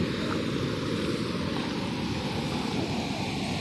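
Creek in the semi-arid northeastern Brazilian sertão, running full after rain: a steady, dense rush of flowing water, close and loud, with no voices.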